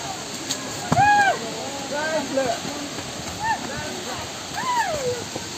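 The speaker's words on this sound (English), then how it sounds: "Or upper waterfall" A waterfall at an outdoor picnic spot rushes as a steady, moderately loud wash of falling water, with birds chirping over it throughout.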